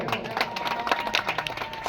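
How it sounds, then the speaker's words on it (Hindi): An audience claps steadily at a welcome felicitation ceremony for a Danda Nacha festival opening, with dense irregular hand claps filling the short stretch at moderate distance. "करताली हो"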